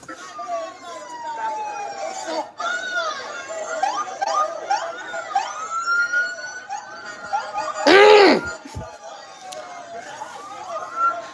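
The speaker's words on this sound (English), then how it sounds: "That's the sound of the police." Police sirens wailing through a New York City street during a clash in Chinatown, rising and falling tones heard under someone talking and crowd noise, with a louder siren burst near the end.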